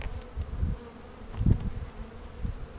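Honey bees hum in a low, steady drone at an open hive during an inspection, with a few soft thumps and close buzzing passes rising over the constant hum.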